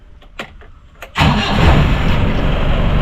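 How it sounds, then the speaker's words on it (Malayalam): A Mahindra jeep engine cranks over with the key and catches at once, settling into a loud, steady, rumbling idle right after a few faint clicks and knocks. "ചാവി അങ്ങ് സ്റ്റാർട്ടാക്കാൻ പോണം."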